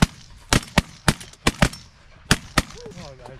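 Shotguns fire at ducks during an opening-day duck hunt, with about eight sharp, loud reports in quick uneven clusters and brief gaps between them. Faint calls or voices come in near the end.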